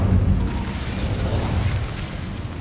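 Incendio fire spell cast in the Hogwarts Legacy video game, heard as a loud, sustained roaring whoosh and rumble of flames with no talking over it.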